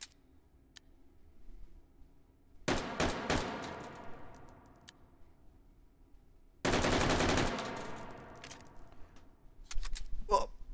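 An L85 rifle firing 5.56x45mm rounds in a VR shooting game, heard as two loud bursts of rapid shots a few seconds apart, each with a ringing tail, followed by a few faint clicks.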